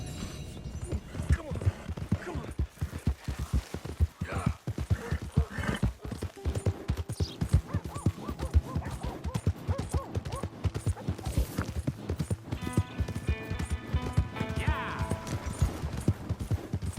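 Horse hooves clip-clop steadily in Red Dead Redemption 2 on PS5, a repeated galloping rhythm running throughout beneath game music and voices talking.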